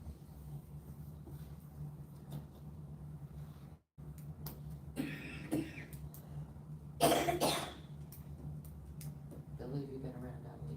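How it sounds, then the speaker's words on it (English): A woman coughs into her shirt during a village council meeting in a room with steady background hum, giving a couple of brief muffled coughs amid quiet room noise and murmuring voices. "She coughed in her shirt, did you notice?"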